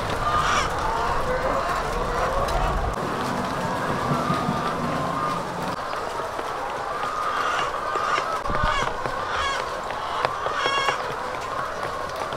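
Laying hens in a poultry house cluck and squawk in a continuous, dense flock chorus, steady and fairly loud throughout with no clear pauses.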